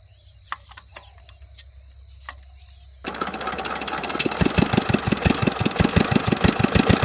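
A cold shallow irrigation pump engine sputters through a few quiet attempts, then catches and runs loudly with a steady, knocking thud that grows heavier and faster as it settles into running.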